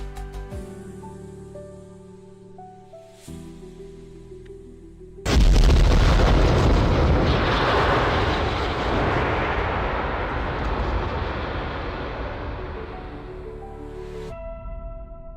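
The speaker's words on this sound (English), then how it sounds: "Engine ignition, for some reason, is an extremely loud noise." Rocket engine ignition in the video game Kerbal Space Program: a sudden, very loud broadband roar bursts in over quieter tonal game music and holds as a dense, sustained rumble for about nine seconds before cutting back to the music.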